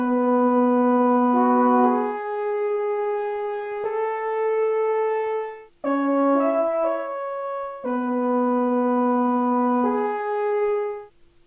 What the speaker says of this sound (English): the solo horn from Sonatina Orchestra sounds like this